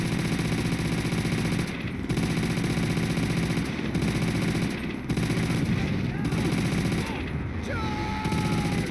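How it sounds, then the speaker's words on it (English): Sustained machine gun fire from the video game Call of Duty: World at War, a dense continuous roar of rapid shots with brief breaks, loud and close over the whole stretch. "I'm using machine gun."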